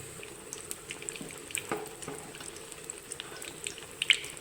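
Wheat appam batter fries in hot oil, a soft, close sizzle with scattered crackles and pops that grows a little busier toward the end. Nobody speaks.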